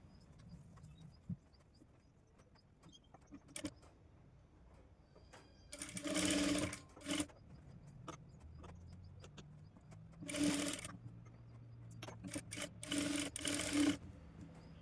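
A sewing machine stitches a blouse in several bursts of fast, rattling mechanical stitching, with quiet pauses and handling noise between runs. The sound is close and there is no talking.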